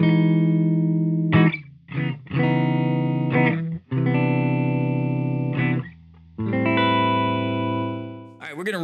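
Sustained electric guitar notes and chords played through a Silktone amp and a Matthews Effects The Traveler reverb pedal, full and slightly distorted, separated by short pauses.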